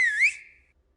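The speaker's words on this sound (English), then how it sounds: "I hear a whistle. It's like a signal." A single sharp whistle blown as a signal in the video game World End Syndrome, a bright warbling tone that rises, then tails off within about half a second into silence.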